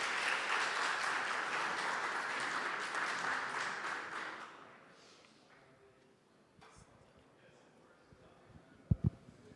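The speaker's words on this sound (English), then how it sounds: "Round of applause, please." Audience applause at a cryptocurrency conference panel, a loud burst of clapping lasting a few seconds that fades into quiet room murmur with a few stray sounds.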